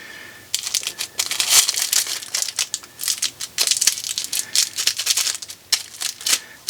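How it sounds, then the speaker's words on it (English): Protective plastic film is peeled and crinkled off the handle of a pair of disconnect pliers, giving close, irregular bursts of crackling and tearing that go on throughout. "So let's take the plastic off of this one."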